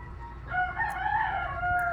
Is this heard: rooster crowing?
yes